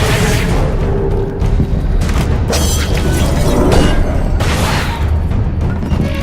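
A heavy, sustained explosion rumbles loud and close in the video game Alice: Madness Returns, a dense roar that holds steady for several seconds with a few sharper bursts on top.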